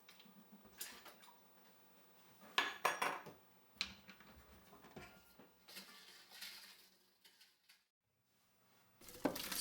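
Spoon stirring lemon juice into rhubarb liquid in a bowl, heard as scattered clinks and scrapes that come in irregular bursts, close and fairly quiet, with a short pause near the end.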